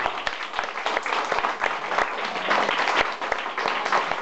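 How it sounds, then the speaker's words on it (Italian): Applause from an audience at a live comedy show, a dense steady patter of many hands clapping throughout, fairly close and full. "Applauso del Enrico."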